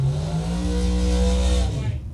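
A drag racing dragster with a 540 Chevrolet engine roars loud and close, a dense, throbbing high-power note held steady for about two seconds before easing off, with no talk over it.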